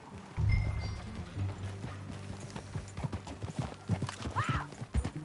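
Horse hooves clip-clop in an uneven rhythm close by in the video game Red Dead Redemption 2, with a brief whinny near the end.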